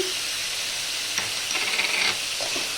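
A raw mango curry is stirred in a pan, the spoon scraping through it in a few short strokes over a steady sizzle of frying.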